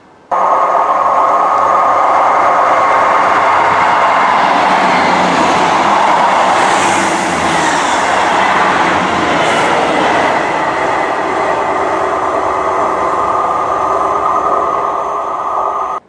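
A train passes South Gyle Station in Scotland, a loud continuous rumble and rattle of wheels and carriages close by that holds steady for the whole stretch before cutting off abruptly at the end.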